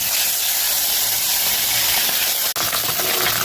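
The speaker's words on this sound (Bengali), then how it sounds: "ভেজে নেবো মাছগুলো" Small fish rubbed with salt and turmeric fry in a hot pan, giving a loud, steady, hissing sizzle close by that continues throughout, with a single brief click near the end and no talking.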